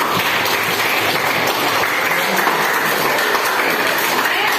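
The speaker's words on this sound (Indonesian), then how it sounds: "Tepuk tangan." Steady applause from a classroom of students after a group presentation, a dense continuous patter of many hands clapping at fairly close range throughout, with no talking over it.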